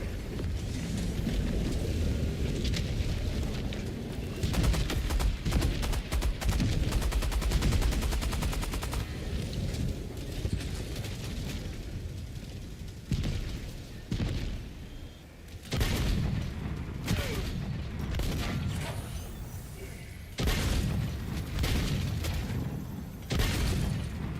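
A deployed weapon emplacement fires in a video game, loud rapid bursts of heavy automatic gunfire with booming impacts, repeating in clusters over a dense battle din.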